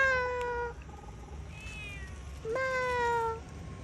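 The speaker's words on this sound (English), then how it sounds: "Where's the kitty?" A cat meows twice, the first call a long falling tone and the second cry rising then holding steady, both fairly close and clear over a quiet background.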